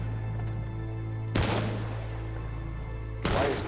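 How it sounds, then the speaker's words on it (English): Gunfire rings out in two separate loud bursts, each lasting about half a second and about two seconds apart, over a low steady hum. "Why is there shooting right now?"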